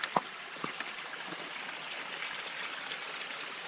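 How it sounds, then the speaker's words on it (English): A waterfall on a solo Appalachian Trail hike through the Smoky Mountains, a steady broadband rush of falling water heard at a moderate distance, continuous with a few brief knocks near the start and no talking. "That is one of the coolest"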